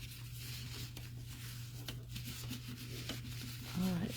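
A new perfume sprayer bottle is wiped down with a cloth, making quiet, soft rubbing strokes against a low steady hum, with a brief louder sound near the end.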